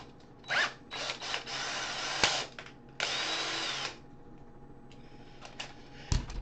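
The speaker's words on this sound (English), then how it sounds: "let me get my regular drill here" A cordless drill whirs in several short bursts, then one longer run, followed by clicks and light handling noises nearby.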